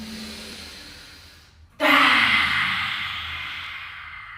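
A big breath in and out during a family yoga fire breath exercise: a quiet inhale, a short pause, then a loud, forceful rushing exhale that slowly fades, with no talking.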